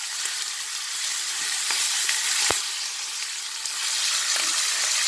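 Cuban pork chunks browning in a pot of hot oil over high heat for puerco asado give off a steady, close, dense sizzle with a brief sharp pop midway and no voices.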